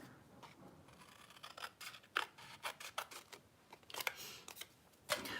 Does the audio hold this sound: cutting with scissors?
yes